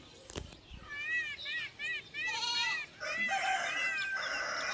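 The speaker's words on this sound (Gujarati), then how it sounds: "મોરલાના અવાજ," Peacocks call across village countryside with fields, a run of repeated, rising-and-falling wailing cries at moderate distance, steady and fairly loud against a quiet outdoor background.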